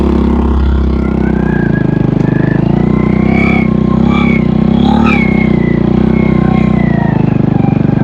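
An underbone motorcycle with a load of water gallon jugs rides in first gear on a gold mine track, its engine droning loud and steady with rising and falling revs throughout.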